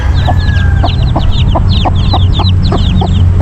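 Chickens and small chicks of a Brahma and Rhode Island Red mix cluck steadily near a net cage, with high peeping chick calls layered over lower hen clucks in a busy, continuous chorus.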